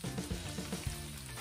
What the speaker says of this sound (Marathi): तापलेल्या तेलामध्ये कांदा घातला.